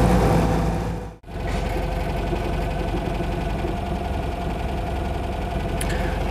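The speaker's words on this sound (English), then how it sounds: "The idle's a bit up and down, I'm not entirely sure why." A Citroen 2CV with a newly fitted engine idles unevenly, its steady low putter rising and dipping, close and continuous after a brief cut near the start, with no talking.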